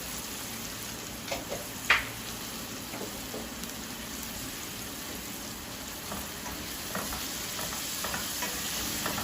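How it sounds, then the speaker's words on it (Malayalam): Sliced onions with salt sautéing in a hot pan for a pearl spot fish molee, a soft continuous sizzle broken by a few sharp stirring clicks and scrapes. "നമുക്ക് സവാള ഇട്ട് കൊടുക്കാം. ഉപ്പിട്ട് കൊടുക്കാം. ഉള്ളി പെട്ടെന്നൊന്ന് വഴണ്ട് കൊടുക്കും."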